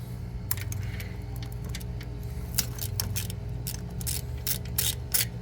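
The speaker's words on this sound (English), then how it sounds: "we're gonna remove this bolt right here, the bolt that goes there, and the bolt that goes here" A ratchet wrench clicks in quick bursts while removing the alternator bolts on a Toyota Camry, with a low hum underneath and sharp metallic ticks building toward the end.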